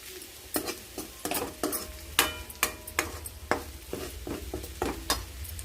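Beetroot and fresh coconut fry with capsicum, onion and coriander is stirred in a pan, a spatula scraping and clinking in a steady rhythm of about a dozen strokes over soft sizzling, close up with no talk.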